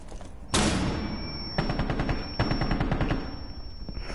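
Rapid gunfire in the video game Rainbow Six, loud close bursts of automatic shots in quick rhythmic strings with short pauses between them, plus a thin high ringing tone, and almost no talking.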